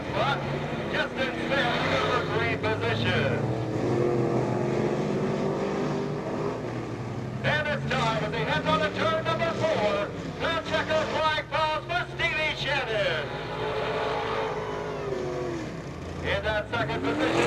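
Race cars lap Peoria Speedway at an old-timers day event, engines roaring past in waves that rise and fade as they go by, with a track announcer talking over the noise.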